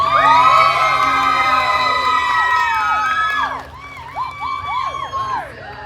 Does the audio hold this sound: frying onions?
no